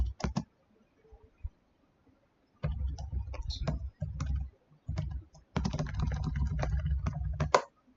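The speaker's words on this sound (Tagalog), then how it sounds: "Type lang ako hanggang lumabas yung prompt name" Fingers typing on a computer keyboard, with bursts of rapid, close keystrokes separated by short pauses and a few isolated taps.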